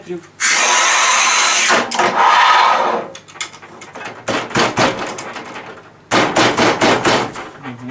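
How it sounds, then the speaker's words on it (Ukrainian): A manual tile cutter scores hard 10 mm porcelain stoneware tile, giving a loud, continuous gritty scrape followed by a series of sharp clicks and knocks and then a second long scraping pass. "Зараз ми спробуємо провести різ ручними плескорізами деякої складної плитки."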